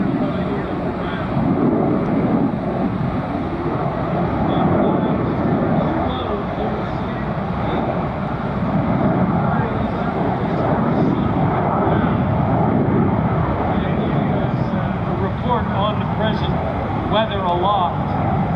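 An F-35B Lightning II at an airshow roars with a continuous, powerful jet engine rumble that fills the air for the whole stretch, mixed with wind buffeting, while an announcer talks over it.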